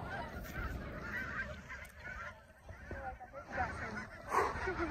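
Ducks call nearby at a trout-fishing spot, giving a few honking, quacking cries over steady outdoor background noise.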